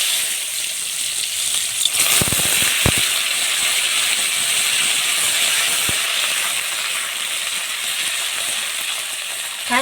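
Raw vegetables and panch phoron hitting hot oil in a Bengali home kitchen, a loud, steady sizzle and hiss with a few sharp clinks from a utensil near the start.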